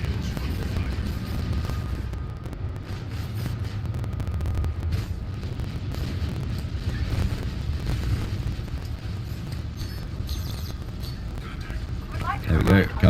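A ship exploding in the space combat video game Elite Dangerous, a deep rumbling roar amid ongoing engine and weapon noise, swelling into a louder burst near the end.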